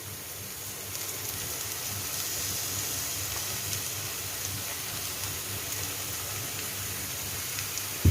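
Ginger, garlic and fennel paste sizzles steadily in a hot pan while being stirred for a Kerala-style mutton curry, a constant close hiss with no talking.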